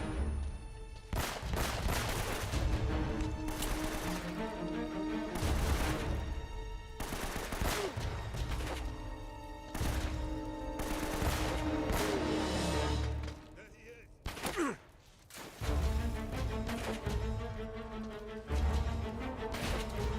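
Gunfire from the video game Uncharted: Drake's Fortune comes in repeated loud bursts and rapid volleys, with a short lull before the firing resumes, while a player talks over it.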